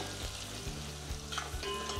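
Onion with asafoetida, green chilli, turmeric and red chilli powder sizzles steadily in a pan for a Marathi dal methi dish, broken by repeated low scraping knocks as it is stirred.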